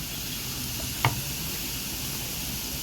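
Food sizzles steadily as it fries in a pan with dried coriander, with a brief clink of a spoon stirring partway through; no talking.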